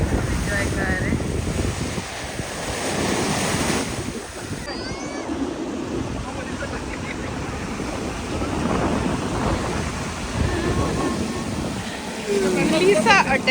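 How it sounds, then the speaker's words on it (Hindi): Sea waves washing onto a beach with steady surf and gusty wind noise on the microphone, while people talk over it. "ये लहरें हैं और ये सारा पानी है"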